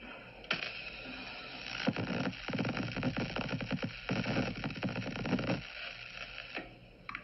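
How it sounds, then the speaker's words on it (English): Static discharge from a Tesla coil crackles and buzzes in dense, rough bursts that run for several seconds, then die back to a low hum. "we're going to have a little static here from a Tesla coil."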